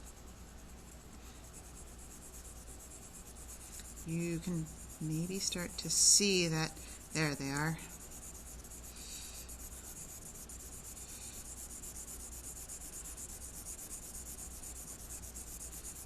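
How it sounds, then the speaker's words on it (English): A charcoal pencil rubbing in small circles over textured, toothy drawing paper makes a steady, soft, scratchy hiss throughout. A voice talks briefly partway through. "as I take this pencil and I do my little circles to try to hide my pencil strokes"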